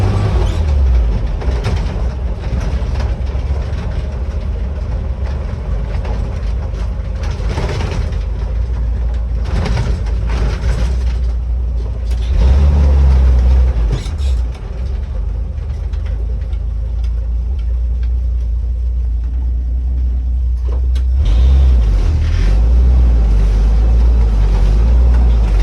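Steady, loud engine drone and heavy rumble from a 1961 Toyota FJ40 being driven, with rattling and road noise throughout and no speech.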